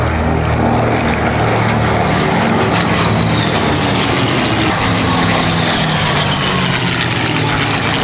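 A rare propeller-driven aircraft, the only one of its kind in Europe, flies past at the Duxford Flying Legends air show, its loud, steady engine drone filling the air throughout with a deep throbbing hum.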